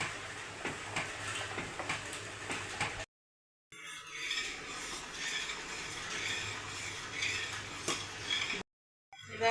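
A spoon scrapes and clinks against a pot of simmering milk pudding made with vermicelli, a steady close stirring broken by two brief silent gaps.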